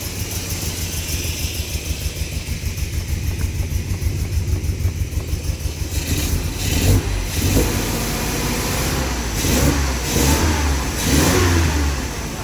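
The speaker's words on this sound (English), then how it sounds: "How does the exhaust sound? It sounds nice." A 1970 Datsun Roadster SPL311 runs nearby with a rhythmic, throbbing idle from its exhaust, then revs up repeatedly in loud, rising bursts during the second half.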